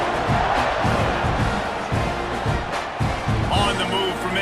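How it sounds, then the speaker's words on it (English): A stadium crowd in a college football video game, Auburn against Texas A&M, roars and buzzes after a score, a dense steady swell with cheering rising near the end. "this crowd is buzzing after that last score"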